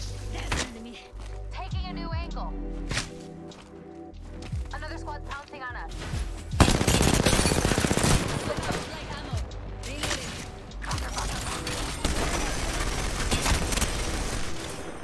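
Gunfire in the video game Apex Legends: rapid bursts of shots ring out over game sounds in the second half, loud and close, following quieter in-game clatter.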